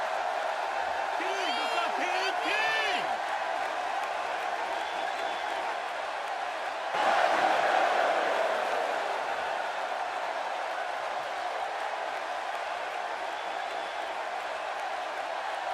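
A capacity crowd in a wrestling arena in WWE 2K16 keeps up a steady roar with cheers and a swell of applause partway through, under a commentator talking over it.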